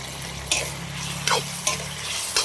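Chopped tomatoes sizzle and fry in a pan for eggplant pitika, a steady close hiss broken by a few soft stirring scrapes.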